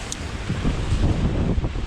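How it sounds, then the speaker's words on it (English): Strong gusty wind buffeting the microphone on a mountain bike trail in South Wales, a continuous low roar with rumbling surges and no voices. "Ooh, it's windy."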